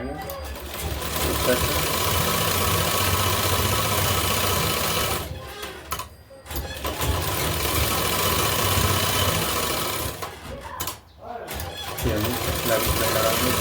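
Sewing machine running stitches along the edge of a fabric patch on buckram for a suit, a loud continuous motor whir with two brief pauses, with someone speaking over it.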